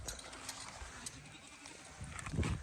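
Young goat kids on a farm give a few soft, breathy bleats at close range, the calls growing louder and more insistent toward the end over low background rustling.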